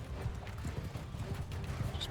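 Cavalry hooves clatter in Mount and Blade II Bannerlord, a steady mass of clip-clopping horses at mid distance with a voice talking over the galloping.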